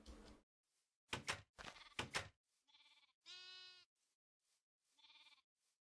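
Sheep bleating in the blocky survival game TerraFirmaCraft, several small lamb-like and grown bleats in a row, clear and close against near silence, with a few soft knocks between calls.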